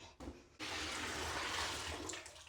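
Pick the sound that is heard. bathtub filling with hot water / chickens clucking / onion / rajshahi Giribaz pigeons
bathtub filling with hot water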